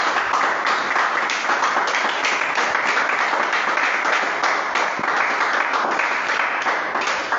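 A church congregation applauds and cheers for the Lord, dense continuous clapping with scattered shouts filling the room for several seconds.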